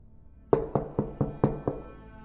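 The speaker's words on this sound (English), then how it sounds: "About 10 minutes after the sun set, the first knocks came." Six sharp knocks on a door, evenly spaced and fairly loud against a quiet background, each one ringing out briefly.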